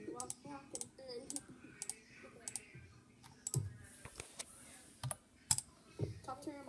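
Keys clicking on a computer keyboard at a kids' sleepover, irregular taps and clacks in short bursts, fairly close, with faint background voices and movement.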